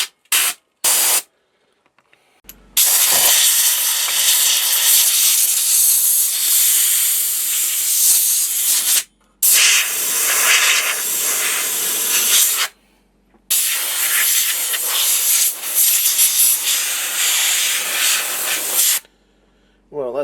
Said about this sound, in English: I'm going to give this a good clearing out with the air hose